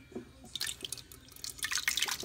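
Gravy poured from one hand into a crock pot, a thin wet trickle with dripping and splashing that builds toward the end, close and fairly quiet.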